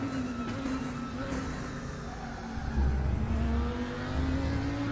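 An Audi 5-cylinder race car engine in the RaceRoom racing game revs steadily, a loud continuous engine drone with shifting pitch and a deeper rumble swelling near the end, with no talk.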